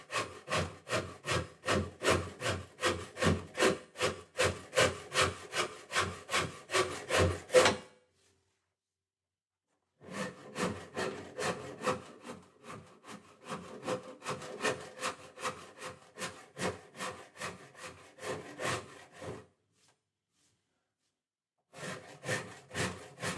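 Hand tool shaping a big bevel into the edge of a wooden Telecaster guitar body, heard as steady rhythmic back-and-forth rasping strokes in two long bursts with a pause between and a short third burst at the end, close and alone.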